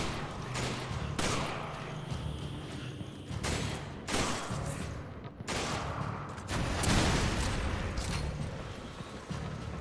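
Rocket blasts and bursts of gunfire in a shooter video game with RPG-armed enemies and snipers, loud repeated booms and rattling shots filling the whole stretch with little pause, with no talking.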